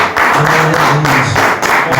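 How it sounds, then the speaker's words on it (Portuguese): A church congregation applauds during a worship service, with dense, steady clapping filling the space and a few voices ringing over it. "Uma salva de palmas para o Senhor."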